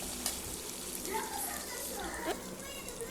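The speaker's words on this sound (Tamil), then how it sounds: "இந்த டைமில் கொஞ்சமாக கருவேப்பிலை சேர்த்துக்கலாம் ரெண்டு வரமிளகா கட் பண்ணி நம்ம சேர்த்துக்கலாம்" Curry leaves and cut dried red chillies crackle in hot tempering oil for a lentil dish. The sizzle is faint and steady with a few soft pops, and distant voices murmur beneath it.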